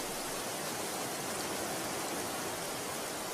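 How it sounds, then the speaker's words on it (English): Steady broadband rush of running water draining from a beaver pond, an even, continuous wash with no breaks, moderately loud and alone with no voices. "The sound of running water triggers an obsessive desire to build."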